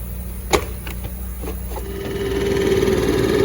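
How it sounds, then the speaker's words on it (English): A Makita MM4 four-stroke engine just after a valve clearance adjustment idles with a buzzing, even rhythm, a few knocks and clicks at first, then a steadier, slightly rising hum near the microphone. "I noticed that it idles better and has better throttle response as well."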